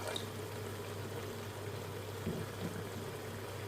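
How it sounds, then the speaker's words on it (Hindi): A little water is poured into a pot of soaked chana dal and chicken pieces, a soft steady trickle and low bubbling that stays faint and even throughout. "थोड़ा सा पानी इसमें ऐड करूँगी।"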